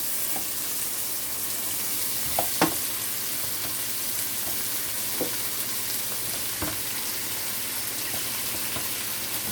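Peppers and ginger stir-fry in a hot pan for a cabbage and beef dish, giving a constant even sizzle with a few sharp clicks of a utensil against the pan.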